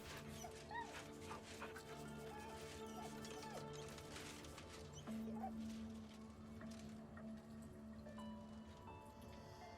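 Dog in the fantasy role-playing game Baldur's Gate 3 whimpering with short yips and barks, faint and close amid quiet game ambience and music.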